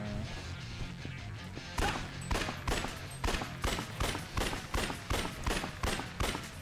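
Gunfire aimed at a car in Yakuza Dead Souls, a loud rhythmic series of roughly a dozen sharp shots at a steady pace over a dense game background.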